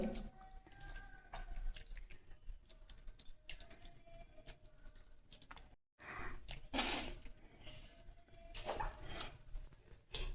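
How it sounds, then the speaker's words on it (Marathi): Butter being washed in a container of water, sloshing and splashing, with intermittent clinks and a dog barking faintly in the background. "या पाण्यात मी लोणी स्वच्छ धुण्यासाठी टाकलेलं आहे"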